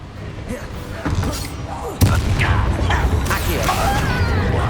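Confringo fire spell explosion in Hogwarts Legacy: an abrupt blast hits midway through ongoing combat noise, followed by crackling and whooshing debris, with voices speaking over the fight.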